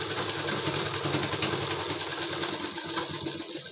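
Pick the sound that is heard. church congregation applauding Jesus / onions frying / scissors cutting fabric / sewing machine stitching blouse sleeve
sewing machine stitching blouse sleeve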